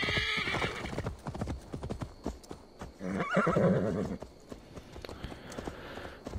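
In Assassin's Creed Valhalla, a horse gallops with rapid clip-clopping hooves, and a sharp neigh rises midway, close and loud with no talking over it.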